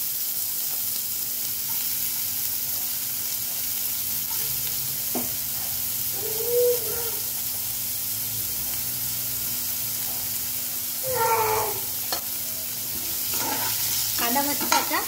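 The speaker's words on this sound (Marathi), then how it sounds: "तेल चांगलं असं तापल्यानंतर आपण त्याच्यामध्ये थोडी मोहरी, थोडे जिरं आणि कांदा टाकणार आहे।" Mustard seeds, cumin and chopped onion sizzling in hot oil in a pan, a continuous crackling hiss with occasional stirring scrapes and clatters, close and steady throughout.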